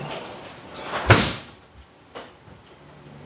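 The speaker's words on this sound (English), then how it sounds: "Let's lock the door." A door swings shut with a single firm thud near the middle, followed by a lighter knock or latch click a moment later, close by in a quiet room.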